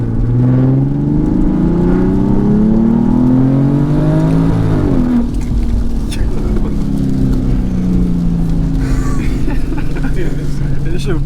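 A big-turbo BMW 340i with a B58 engine accelerates hard on a wet road, its tone climbing through a gear, dropping at a shift and then pulling again close by, with voices talking over the engine.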